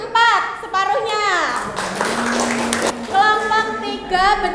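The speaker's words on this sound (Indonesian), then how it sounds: "Tepuk tangan dulu." Schoolchildren in a classroom clap for a quiz group's score, a burst of lively applause lasting a couple of seconds between stretches of a teacher and kids speaking.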